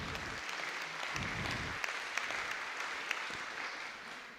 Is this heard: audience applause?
yes